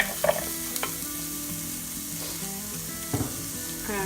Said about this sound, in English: let the onions cook for about a minute or so. And then I'm gonna add the garlic.